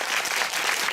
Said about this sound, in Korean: 아무튼 오늘 함께해 주신 네 분께 큰 박수 드리고요.